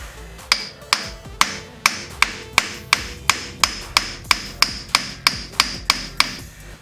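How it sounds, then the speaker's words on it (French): A small aluminium hammer taps sharply about twice a second on a Peugeot clutch job, a steady run of crisp, ringing strikes close by with no talking. "avec mon petit marteau en aluminium pour pas abîmer ma tête"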